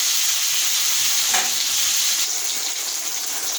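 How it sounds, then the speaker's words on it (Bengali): Pieces of pointed gourd frying in a wok, giving a loud, even hiss of hot oil that holds steady throughout with only slight dips, close up and with no voices. "আমি কড়াইতে দিয়ে দেবো, একটু লাল লাল হয়ে ভাজতে থাকবে।"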